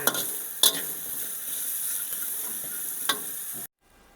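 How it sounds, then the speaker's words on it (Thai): Chopped shallot, ginger, kaffir lime peel, turmeric and lemongrass sizzle in hot oil with a steady hiss, broken by a couple of sharp scraping stirs, before cutting off abruptly near the end. "นำเครื่องเทศที่เราหั่นนะคะ หอมแดง ขิง ผิวมะกรูด ขมิ้นตะไคร้นำมาคั่วให้น้ำมันหอมระเหยมันออกค่ะ"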